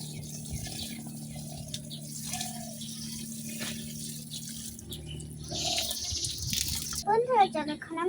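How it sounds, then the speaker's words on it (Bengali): Water splashes and trickles steadily as potted plants are watered in a rooftop garden. A voice talks quietly over the sound, and it grows louder and more splashy near the end. "এখন এই গাছটাই জল দেই।"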